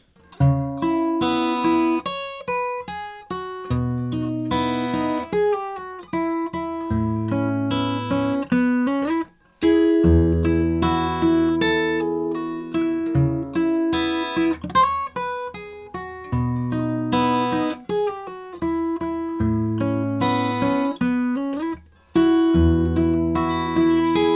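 A solo acoustic guitar plays a fingerpicked melody with bass notes and chords, steady and close, continuing without pause for the whole stretch.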